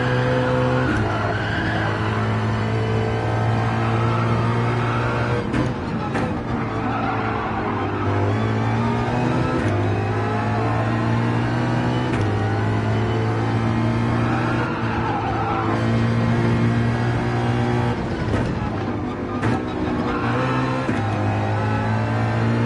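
A race car at Road Atlanta is heard from onboard, its engine droning loudly and shifting up through gears with stepped pitch changes and brief dips between shifts.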